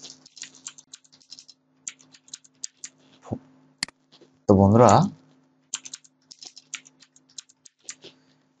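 Keyboard keys tapped to enter a phone number during an account sign-up, a run of light, fairly close clicks spread across the clip with a short burst of speech in the middle.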